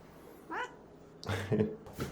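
A house cat gives one short, clear meow indoors as visitors arrive at a home, followed by people talking nearby.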